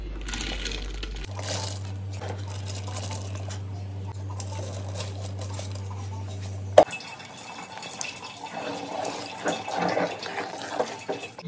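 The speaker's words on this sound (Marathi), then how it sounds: "तर आता उकळी छान फुटत आली ना की हे टाकून द्यायचं साबुदाणा." Sago pearls are tipped into a pot of boiling water. A steady low hum gives way to a sudden clack, then a soft scattered patter and bubbling from the pot.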